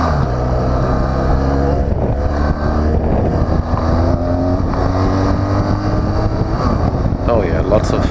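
A BMW R1200GS motorcycle cruises on a freeway, its engine drone steady and loud under heavy wind buffeting throughout, with occasional shifts in pitch as the rider holds speed.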